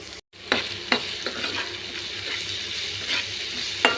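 Vegetable soup ingredients being stirred in a pot, a steady close scraping and sizzling with occasional louder knocks of the spoon, no talking.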